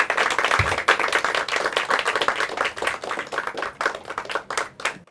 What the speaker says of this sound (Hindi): इनका हम ज़ोरदार स्वागत करते हैं तालियां बजा के।